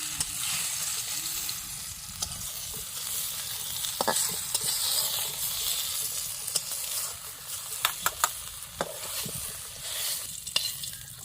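Eggplant frying in a pan gives a steady crackling sizzle, broken by occasional spatula scrapes and clicks as the pieces are stirred, close and moderately loud throughout.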